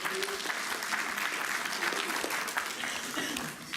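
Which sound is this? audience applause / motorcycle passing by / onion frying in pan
audience applause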